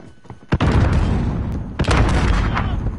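A frag grenade blast and gunfire in the video game Warzone: sharp booming hits and cracks over a dense, loud rumble of battle, with several distinct impacts spread across the moment.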